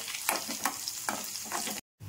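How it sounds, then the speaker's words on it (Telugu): Garlic and dry chillies fry in hot oil for a tempering, a close crackling sizzle broken by about four rhythmic scrapes of a stirring spoon, then a brief cut-out. "పోపు వేగిపోయింది."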